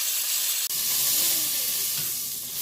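Chuck tender roast beef searing over high heat in a pan, a loud, dense, continuous sizzle and hiss heard close up, with a single sharp click early on and no speech.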